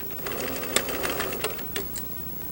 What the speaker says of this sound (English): we will sew down to the end and lock our stitches